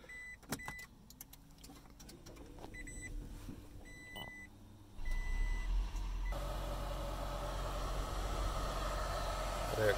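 Hybrid battery cooling fan on a Toyota Prius being diagnosed for a P0A80 battery fault. A few clicks and a beep come first, then the fan starts with a steady broadband whoosh that holds loud and even, close by.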